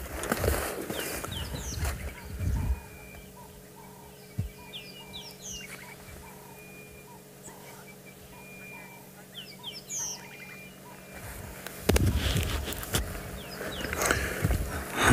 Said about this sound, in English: Quite a lot of bird sounds around in this drainage